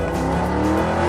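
A fast car drives by as a sound effect, a loud, steady engine roar with tire noise filling the whole short moment, with no talking.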